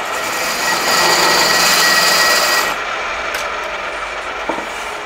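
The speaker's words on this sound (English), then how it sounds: "You'll see now that we've counterbored all the holes." A machining tool counterbores stud holes in a 1275 A-Series engine block, making a steady, loud grinding whir of cutting metal that stops partway, leaving lighter mechanical noise and a brief clunk.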